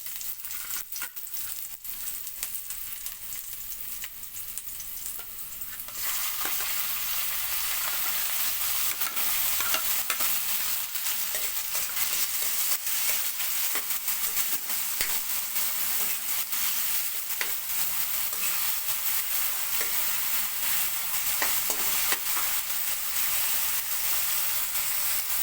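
Onion and tomato sautéing in a pan, a continuous crackling sizzle with stirring that grows louder after a quieter start and holds steady, close up with no talking.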